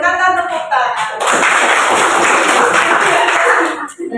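A group claps together in a sustained burst of applause lasting a few seconds, with some voices just before and after.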